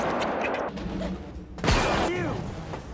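A gunshot as a manager shoots Jackie: a sharp, loud blast with a falling thud that cuts in abruptly after a stretch of busy background sound, followed by a ringing tail.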